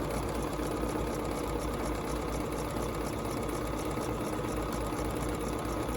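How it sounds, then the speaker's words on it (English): A Bernina 790 Plus sewing machine stitches a buttonhole with a steady, even motor whirr and a fast needle rhythm that holds without a break throughout. "Press the green button, and we are stitching a buttonhole."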